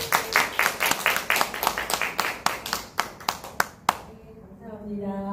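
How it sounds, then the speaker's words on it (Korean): An audience claps in welcome for a lecturer at a talk on growth journaling, sharp individual claps in a brisk irregular run for about four seconds, then stopping as a voice begins speaking. "뜨거운 박수"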